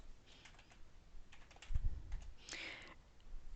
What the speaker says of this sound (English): So what I do is I type add user.